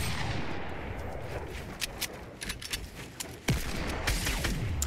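Gunshots in the video game Fortnite: a string of sharp cracks, some spaced and some close together, with one louder blast near the end over a background of game noise.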